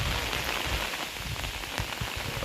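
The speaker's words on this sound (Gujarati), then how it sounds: "પછી વરસાદને માણીએ" Steady rain falls in Gir, a dense, continuous patter on surfaces with scattered louder drops, close and without talk.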